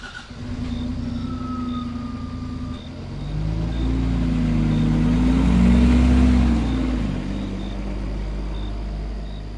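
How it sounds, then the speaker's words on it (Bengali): A car engine rumbles steadily as the vehicle drives toward a village, the low drone swelling louder midway, with faint tonal background sounds above it and no talking. "গাড়িটা সশব্দে গ্রামের দিকে এগিয়ে চলে"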